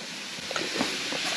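Sliced potatoes frying in butter in a pan, a soft steady sizzle with faint pops and crackles, close by and quiet, no voices.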